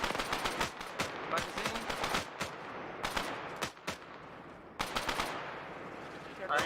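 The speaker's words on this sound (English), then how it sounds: "Okay, keep up suppressive fire, guys." Rapid bursts of automatic gunfire in a military tactical shooter game, loud repeated volleys with short pauses, mixed with radio-style squad chatter over the shots.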